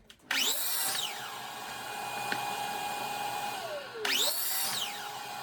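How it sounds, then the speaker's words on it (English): A miter saw spins up loudly and bites through a 2x4 held against the fence, whining steadily as the blade cuts, winding down, then starting again for a second cut near the end; no talking. "I've scribed a line at 4 inches on my miter saw fence, and I'm just pushing the 2x4 to that line and then making a cut"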